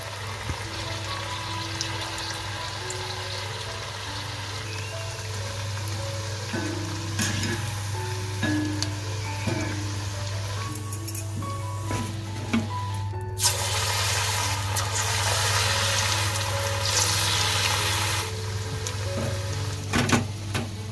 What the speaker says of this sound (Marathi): मस्तपैकी कढईमध्ये ना तेल गरम करायला ठेवला होता आपण त्यावरतून मस्तपैकी कांद्याचं जे सर्व मिक्सचर आहे ते रेडी केलेलं एक एक एक करून घालून घेतोय